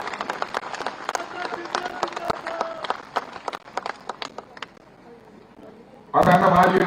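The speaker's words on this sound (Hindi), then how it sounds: "जरा हाथ उठाकर तालियां बजा दीजिए" Scattered clapping from a crowd at a political rally patters beneath someone speaking over a loudspeaker, then swells suddenly into a loud burst of applause at the end.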